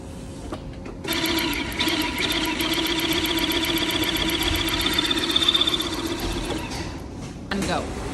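An industrial linking machine joins a knitted sweater collar to the body panel in a Portuguese knitwear workshop, giving a steady whirring, rapidly ticking mechanical drone that runs for several seconds before stopping, with faint voices around it.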